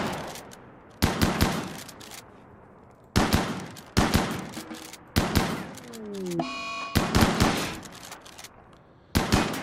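Gunfire in the video game Rimworld comes as repeated short bursts of rapid shots separated by brief pauses, fairly loud and close, with a brief tonal game sound in the middle and no talking.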